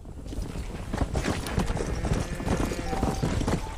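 Horse hooves clip-clop in a rapid, steady rhythm as a rider trails cattle in the Western video game Red Dead Redemption, loud and continuous with a faint whinny-like tone partway through.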